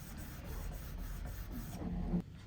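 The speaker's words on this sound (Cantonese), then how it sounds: "留意喺做打磨嗰時要輕輕力㗎，千祈唔好磨穿咗個油漆啊！" Light hand sanding levels French polish lacquer on a handmade acoustic guitar, a soft steady rubbing rasp close by that stops abruptly near the end.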